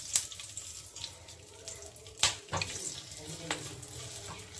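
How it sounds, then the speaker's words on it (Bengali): Whole cinnamon, cardamom, cloves and bay leaves hit hot oil, giving a soft crackling sizzle with a few sharp spits and pops, close by and moderately quiet. "এখন আমি ফোড়নে দিয়ে দিচ্ছি এই যে দারচিনি, এলাচ, লবঙ্গ, তার সঙ্গে 2টো"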